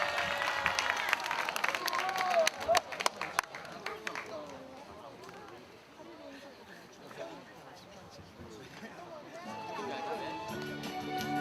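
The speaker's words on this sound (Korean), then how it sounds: "힘찬 박수와 함성으로 모시겠습니다" An outdoor peace rally audience claps and cheers loudly at first, the noise fading into scattered claps and crowd murmur before music starts.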